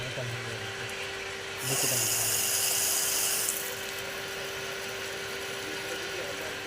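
A steady farm water pump motor hum runs throughout, with a brief louder rush of flowing water in the middle, recorded at a moderate distance near a canal.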